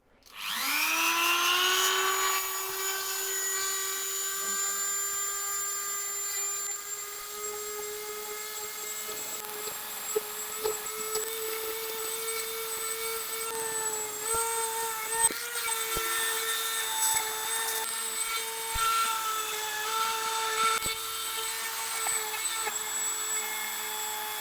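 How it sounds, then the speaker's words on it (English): A small Dremel rotary tool with a carbide tip spins up to a high, steady whine while cleaning out a monkey puzzle wood turning, with faint scratchy contact noises as the bit works the wood, close and alone. "I'm just going to go in with a small carbide tip on my rotary tool, a little Dremel, and just clean it up a little bit"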